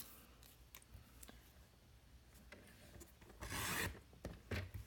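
Scissors cutting designer series paper into small strips for a paper box craft, quiet intermittent snips and rasping paper rubs, with a louder crisp cut near the end.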